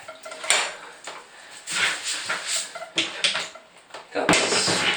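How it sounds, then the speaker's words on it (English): Cutlery, a knife and a cutting board being washed by hand in a bathtub, with loud close clinks, clatters and scrapes of metal in irregular bursts, and a voice talking between the clatter. "Got a bunch of cutlery here."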